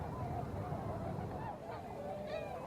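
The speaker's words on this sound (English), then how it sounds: "These tundra swans are only a little over halfway through their migration" A large flock of tundra swans honks on the Upper Mississippi during migration, many overlapping calls forming a steady, dense chorus at moderate distance with no talking.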